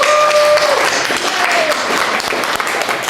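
Loud, sustained applause from a studio audience in a late-night talk-radio lounge setting, steady clapping filling the whole stretch with a faint tone and brief voices mixed in.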